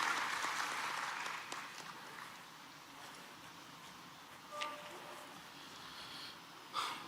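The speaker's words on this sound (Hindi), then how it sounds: "तालियों से स्वागत करेंगे श्री बी सिंह जी का उद्बोधन के लिए।" Audience applause at a ceremony in Bhopal honoring selected UPSC candidates, welcoming a speaker; moderately loud clapping at first that thins and fades, with a few sharp knocks and faint sounds afterward.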